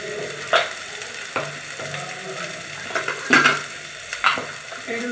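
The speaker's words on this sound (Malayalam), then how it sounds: "നല്ലതുപോലെ വഴറ്റി കൊടുക്കുക" Potato and green peas gravy sautéing in a pan for a North Indian aloo matar: a constant soft sizzle broken by irregular scraping and stirring knocks of a utensil against the pan.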